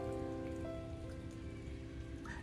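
Soft, continuous rain patter with a steady hiss, quiet and even throughout, no voices.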